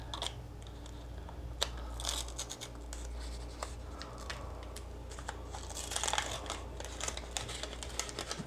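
Baking paper being peeled away from a freshly baked cheesecake, giving steady close crinkling and scratchy rustles with a few sharper crackles, over a constant low background hum.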